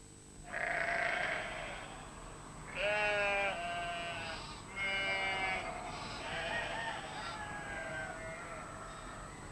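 Sheep bleat three times in a row, each a wavering, nasal call with short pauses between, fairly close and clear over a quiet background.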